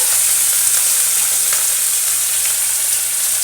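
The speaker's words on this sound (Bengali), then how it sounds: "মাছগুলি ভাজা হতে থাকে" Steady, loud sizzling of fish frying in hot oil, a dense continuous crackle with no pauses and no voices.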